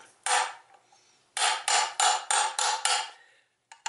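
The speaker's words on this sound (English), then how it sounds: "use to tap the seals in" Sharp metallic hammer taps drive seals into a Honda CRF450R engine during a water pump repair, with one isolated strike followed by a quick run of five even blows, then a pause and a final pair of light taps, all close up.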